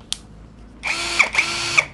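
Nagawa NCB02-13 hammer drill running in drilling mode with a heavy self-drilling spade bit, a brief tap followed by two loud whirring bursts with ratcheting surges, close and alone.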